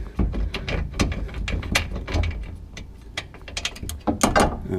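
Rapid ratchet clicking in quick bursts while rear sway bar bolts come out of a fifth-generation Camaro ZL1, close and fairly loud with a few metallic knocks and no talk.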